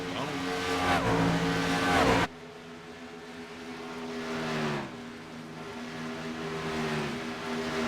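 A race truck in a sim racing truck series video game drives at Autoclub with a loud engine roar that cuts off abruptly, then a quieter engine drone with rising and falling pitch continues.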